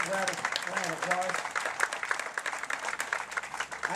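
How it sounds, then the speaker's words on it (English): A crowd at a campaign event applauds veterans in the audience, an irregular clapping that starts under a voice and then continues on its own. "We give them a big round of applause."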